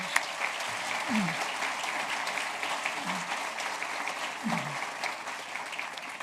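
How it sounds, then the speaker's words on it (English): A crowd applauds at the grand opening of a cancer outpatient center, sustained clapping of many hands at moderate distance, with a few low murmurs and sounds in the background. "give yourself applause"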